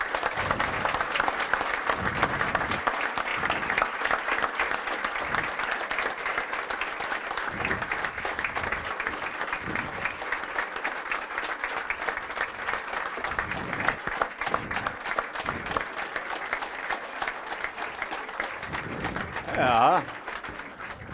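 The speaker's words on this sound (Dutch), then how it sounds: "een geweldig applaus" Steady audience applause fills a Dutch political café event, dense sustained clapping from a crowd with some voices mixed in, continuing for the whole stretch.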